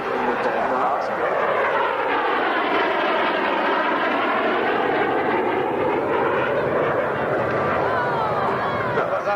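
A Spitfire's piston aero engine roars loud and steady at a 1996 Southampton airshow, with a low crowd murmur beneath and its pitch sweeping gradually as the plane passes.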